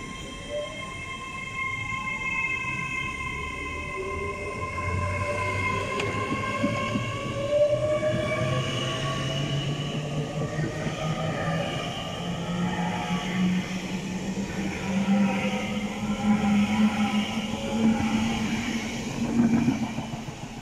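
A Class 802 train, unit 802.105, pulls away from Didcot Parkway on a Bristol Temple Meads to London Paddington service, its traction motors whining in steadily rising tones over a continuous rumble of wheels for about twenty seconds.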